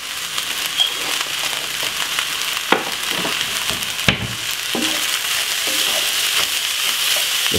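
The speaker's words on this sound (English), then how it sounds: "Just keep stirring, you know what I mean?" Jamaican curry vegetable fried rice sizzles steadily in a pan while it is stirred, a continuous broadband hiss of frying broken by a few sharp scrapes and clicks of the spoon, close and fairly loud throughout.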